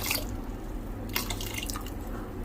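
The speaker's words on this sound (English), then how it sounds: "So we will add some more water." Water is poured into a pot of simmering Indian lentils, making a soft splash and trickle in short bursts over a steady low background hum, quiet and close.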